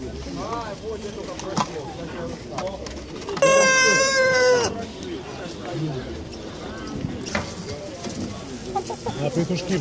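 Pigeons coo in low, throaty bursts at a busy outdoor poultry and bird market in Kropotkin, mixed with crowd murmur and a brief louder bird call midway.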